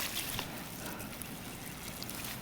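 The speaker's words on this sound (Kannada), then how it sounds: "ಸೊ ಇಲ್ಲಿ ನೋಡಿ ನೀರು ಹೋಗ್ತೈತೆ" Water running out of a broken pipe outdoors makes a soft, steady trickling and gurgling flow, faint and continuous, with no talking.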